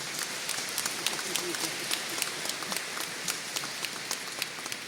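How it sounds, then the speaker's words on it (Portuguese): An audience at a solemn medal ceremony in Rio de Janeiro claps steadily for a state government secretary, soft and fairly distant, with occasional louder individual claps. "senhor Lucas Tristão, uma salva de palmas"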